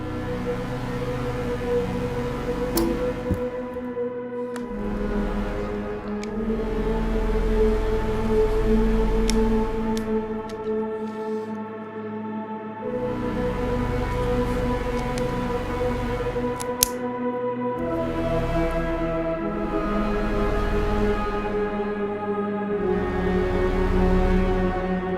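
Playback of a song's MIDI instrument parts, layered synthesized tones and steady beats running continuously at moderate volume for the whole stretch, with no talking.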